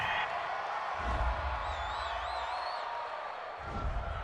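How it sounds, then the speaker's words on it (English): A home crowd at an NFL football game between the Atlanta Falcons and New Orleans Saints roars steadily after a penalty call, with a whistle-like trill and swelling cheers in a dense stadium wash under commentary. "This home crowd, they're happy with that call."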